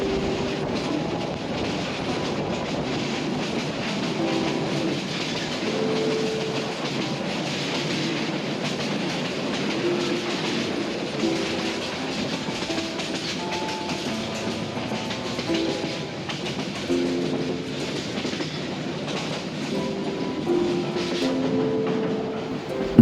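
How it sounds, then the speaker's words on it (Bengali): Passenger train on the Dhaka to Sylhet line running over rails, a steady loud rumble with rhythmic clatter of wheels on track joints, continuous and close throughout. "মাঝে মধ্যে ছোট স্টেশনে থামে ট্রেন"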